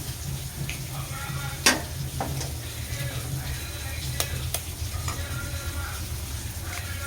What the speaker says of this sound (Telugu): ఇలా గుడ్డు కొట్టుకొని పోసుకున్నామండి ఇలాగా